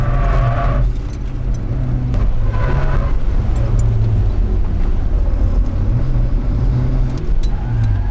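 Mazda MX-5 on its first track lap, engine loud and close from inside the cabin, revs climbing and dropping with gear shifts over steady road roar.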